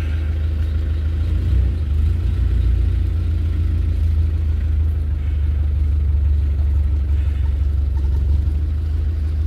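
Car cruising around the small town of Iron Knob, a steady low engine rumble and road drone from inside the vehicle, even and moderately quiet throughout with no talking.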